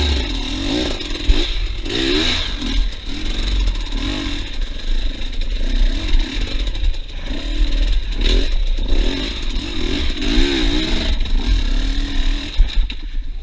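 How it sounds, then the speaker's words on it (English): Motorcycle on a technical hill climb, run at low revs and stalling. A steady close engine rumble wavers up and down in pitch throughout, with some clatter and scraping. "I'm too low in the rev range, so I keep stalling the bike."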